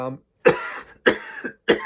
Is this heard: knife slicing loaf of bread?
no